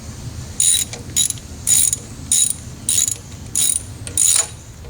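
A ratchet with a 10 millimeter socket working valve cover bolts on a 2002 Toyota Camry, seven short bursts of rapid clicking at a steady rhythm, close and clear over a low background hum.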